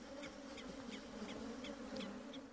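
Killer bees buzz steadily in a swarm during an attack, a low dense drone with a few faint higher flickers, continuous and fairly quiet.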